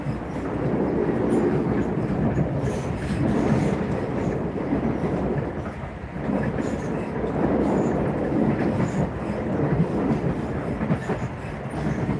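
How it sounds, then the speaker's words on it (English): Inside a train running from Loznica to Belgrade in Serbia, a continuous rumble carries rhythmic clickety-clack from the wheels, with steady carriage noise throughout and no voices. "I'm on the train."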